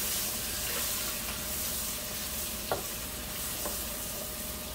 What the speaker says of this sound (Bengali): রসুন বাটা দিলাম